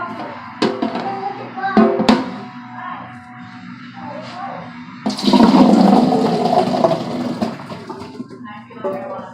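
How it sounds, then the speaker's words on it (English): Liquid from a whole undrained can pours into a cooking pot for pozole verde, a broad rushing, gurgling splash swelling midway and running several seconds, preceded by a few sharp clanks of the can against the pot, with a voice faintly present. "I just empty the whole can without draining it or anything into the pot"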